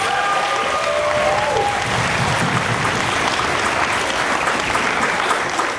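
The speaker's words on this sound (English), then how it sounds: "Give yourself a round of applause for this morning" Dense, sustained applause from a morning audience at a community speaking event fills the whole span, steady and loud, with a brief fading voice or tone at the start.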